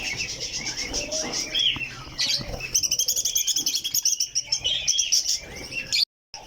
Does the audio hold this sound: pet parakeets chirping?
yes